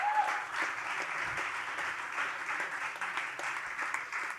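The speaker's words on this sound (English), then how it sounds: "So a round of applause for Wagon." Steady applause from a presentation audience at the Le Wagon Lisbon coding bootcamp demo day, sustained and fairly close throughout without a break.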